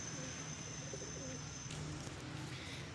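Pigeons coo softly on a rooftop where pigeons are kept and flown, low repeated calls over steady background hiss and faint ambient noise.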